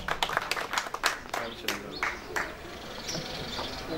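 Audience applause at an outdoor ceremony honouring patriots in Mingachevir, with scattered clapping bursts that thin out over a few seconds amid background crowd murmur.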